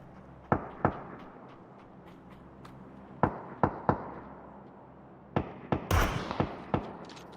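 Sharp, separate gunshots in PUBG crack out one at a time, several spread across the stretch with a tighter burst near the end, fairly close over a steady low background hum.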